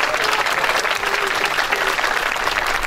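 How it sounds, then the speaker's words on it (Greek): An outdoor concert audience in a town square on Kythera gives a pianist a round of applause, a thick, continuous crowd of clapping at full strength with a faint voice underneath. "Ένα θερμό χειροκρότημα για την πιανίστα μας"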